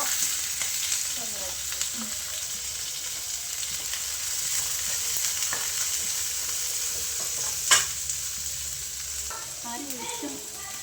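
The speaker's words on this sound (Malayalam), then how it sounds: "എന്നിട്ട് നന്നായിട്ട് വഴറ്റണം അല്ലേ" Onion and capsicum sautéing in a pan for macaroni, a continuous close sizzle with scraping stirs and a sharp clink midway, no voices.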